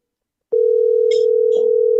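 A telephone call placed live during a radio show produces a steady, loud line tone that starts abruptly after a moment of silence and continues unbroken to the end.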